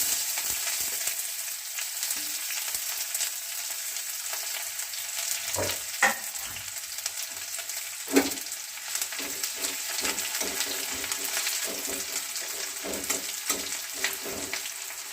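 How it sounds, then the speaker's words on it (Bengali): Chopped onion frying in a pan after dried red chillies, a steady sizzle running throughout at moderate level, with a few sharp clinks and stirring knocks scattered over it and no talking. "এবার দেব পেঁয়াজ কুচি"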